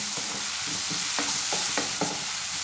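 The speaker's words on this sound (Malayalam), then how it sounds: "ഇതിലേക്ക് ഇനി നമുക്ക് നല്ല പഴുത്തൊരു തക്കാളി മുറിച്ചത് ചേർത്ത് കൊടുക്കാം" Chopped ripe tomato being stirred into a sizzling masala in a hot pan, with a steady frying hiss and several distinct scraping stir strokes up close, no voices.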